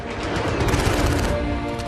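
Sustained burst of machine gun fire, dense rapid shots blending into a loud continuous rattle close up, in a Kargil War battle scene.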